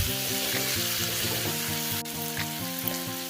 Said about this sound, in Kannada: ಈಗ ಇದನ್ನು ಎರಡು ನಿಮಿಷ ಚೆನ್ನಾಗಿ ಹುರ್ಕೊಳ್ಳಿ